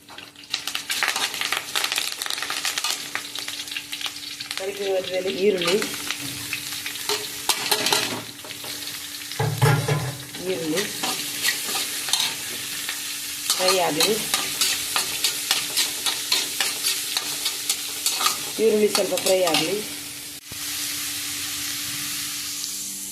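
Curry leaves crackle and sizzle in a hot pan for a moong bean and spinach sambar, a steady fry with several scraping stirs spaced through the stretch, close and fairly loud, no voices.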